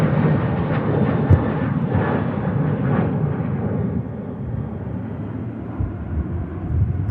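An aircraft going around at Manchester Airport and flying overhead, a loud, broad jet roar that stays heavy at first and eases slightly toward the end.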